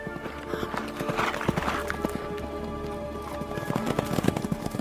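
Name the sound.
horses' hooves as riders set out, audiobook sound effect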